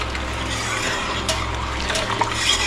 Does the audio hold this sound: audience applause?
no